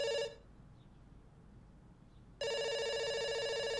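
A telephone rings in the video game Dr. Langeskov, a loud harmonic bell burst that cuts off, leaves a short quiet gap, then starts again and carries on steadily to the end.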